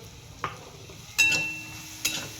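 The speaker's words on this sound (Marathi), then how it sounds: "इकडे मिरची आपली छान अशी परतली" Green chillies sautéing in a pan for sabudana khichdi, heard as a faint sizzle under a few sharp scrapes and clinks of a spoon stirring against the pan.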